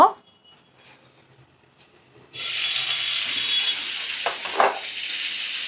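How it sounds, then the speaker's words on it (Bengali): Potatoes, ridge gourd and taro hit a hot pan and sizzle loudly after a quiet start, settling into a steady close frying hiss with a few stirring scrapes. "আলু, ঝিঙে আর কচু ভালো করে ভাজা করে নিচ্ছি।"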